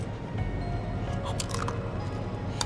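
A creature in Final Fantasy VII Remake Intermission chews noisily, wet squishy bites and crunches scattered over a low rumbling game background, moderately close.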